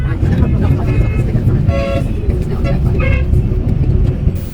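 Car horns honk in chaotic Indian city traffic. Two short, bright honks stand out over a constant, heavy road rumble, with a voice faintly audible underneath.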